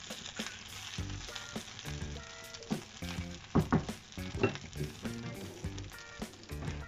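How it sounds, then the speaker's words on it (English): Lamb coconut rice frying in a pan gives a continuous close sizzle with scattered louder crackles and stirring over faint tonal background sounds. "I love that sizzling sound as well."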